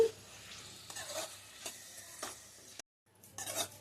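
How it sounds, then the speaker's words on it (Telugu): Prawns coated in fresh ginger-garlic paste are stirred and fried in a pan, with scraping stirs and a soft sizzle that cut out briefly before resuming, close by and without speech. "ప్రాన్స్ వేసుకోవాలి, కలుపుకోండి."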